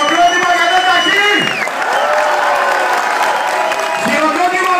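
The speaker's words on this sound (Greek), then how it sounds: "Χειροκρότημα για τον Ταχύ" Crowd applause and cheering at a hip-hop MC battle final ring out across the room, steady clapping under an amplified voice with music tones woven through.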